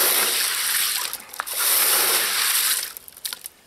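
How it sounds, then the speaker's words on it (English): Water sprays and gushes over pea gravel being washed for a greenhouse grow bed, a steady rushing hiss with gritty crunching that pauses briefly before resuming and then fades to scattered splashes. "Washing the gravel."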